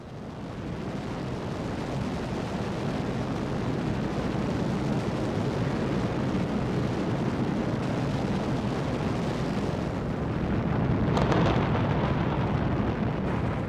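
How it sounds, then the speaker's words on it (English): Volcanic eruption beneath a glacier in Iceland, blasting steam and ash as ice melts, heard as a continuous, loud, deep roar with a steady rumbling wash throughout and a brief sharper burst near the end. "A volcano erupted, melting the ice at the bottom of the glacier, creating a violent explosion of steam and ash."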